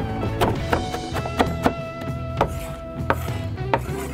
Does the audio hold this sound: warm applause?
no